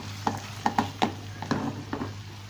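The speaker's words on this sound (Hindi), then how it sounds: "तो ये हम जो है पिसा हुआ गरम मसाला डाल के इसको 2 मिनट पकाते" Minced meat with ground garam masala being fried and stirred in a pan, heard as a soft sizzle under a series of sharp spoon scrapes and taps, about seven in quick, uneven rhythm.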